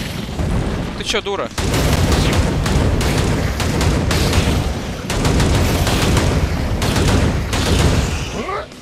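Exploding onions in the Hellbound video game, heard as loud, continuous booming blasts and gunfire-like bursts. A brief spoken exchange breaks in near the start.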